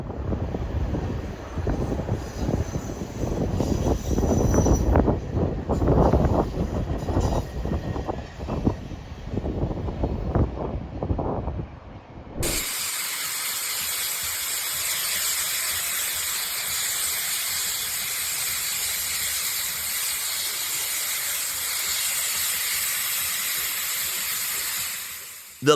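Steam hisses from the Big Boy 4014, a huge World War II-era steam locomotive, first a rough rumbling section with crackly noise, then a steady bright broadband hiss that holds until the end.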